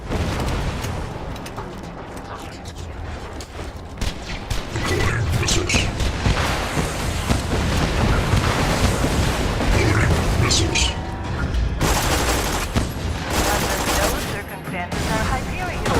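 Missiles and gunfire in the Borderlands 2 video game, loud sustained bursts of shooting and booming blasts through most of the stretch, with a louder burst of explosions near the end.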